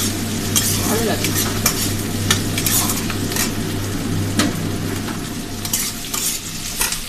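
Onions and potatoes fry in a pan, a steady close sizzle broken by repeated scraping and clinks of a utensil stirring against the metal, with no talk.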